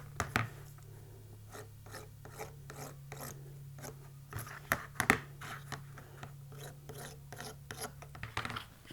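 Short rasping strokes of sanding on a Kydex sheath, repeated irregularly and close, with a low steady hum underneath.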